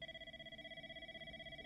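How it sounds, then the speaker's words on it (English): A telephone rings in a found footage horror video game, a steady rapidly pulsing electronic trill sustained throughout, fairly quiet and alone. "Ring ring!"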